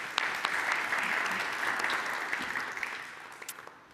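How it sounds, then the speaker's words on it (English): Conference audience applauding at the close of a talk, a steady, dense wash of clapping from many hands that stays level, then slowly thins and fades toward the end. "And another round of applause"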